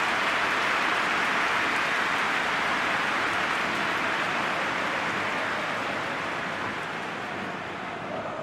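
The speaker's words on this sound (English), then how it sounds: "just starting to get the first signs of rain here." Rain beginning to fall in the football video game PES 2021, a steady broadband hiss that holds evenly throughout and eases slightly toward the end, with no voices over it.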